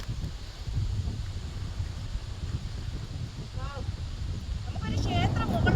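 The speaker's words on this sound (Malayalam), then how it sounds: "നല്ല കാറ്റ് കേട്ടോ, നല്ല എന്താ പറയുക, സൂപ്പർ കാറ്റാണ്" Strong wind gusts across an open flat rock hilltop, rumbling and buffeting the microphone steadily, with a voice speaking faintly near the end.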